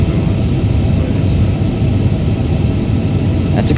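Steady, loud broadband roar from an Airbus A350 airliner on landing approach, a constant engine-and-airflow rumble throughout with no distinct changes.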